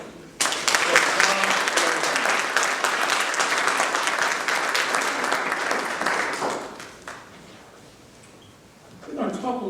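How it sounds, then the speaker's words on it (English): A seminar audience gives a rousing round of applause to individuals and partners standing at a Langston University research centre welcome, steady full clapping for about six seconds, then fading to quiet before a voice resumes. "Please join me in giving these individuals a rousing round of applause."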